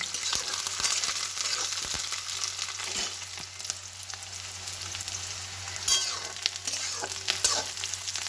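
Onions and chillies frying in a hot pan for pasta, with a continuous crackling sizzle close up and occasional stirring scrapes and taps spread through it.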